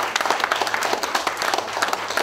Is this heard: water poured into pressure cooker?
no